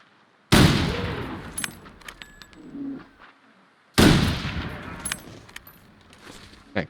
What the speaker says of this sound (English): Actually, we have the curator's rifle.